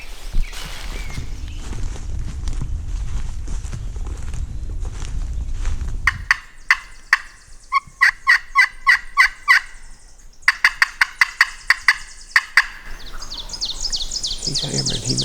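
A wild turkey gobbler in open woods on public land rattles out loud, sharp gobbles in rapid clustered bursts, following low rustling footsteps and quiet voices early on.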